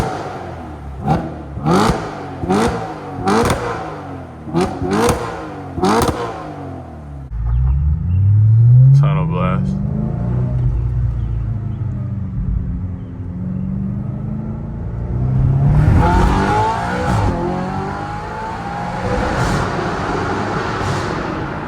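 An Audi RS5 with a 4.2L V8 revs in neutral at night: a string of quick throttle blips first, then long deep revs that climb and fall, loud and close.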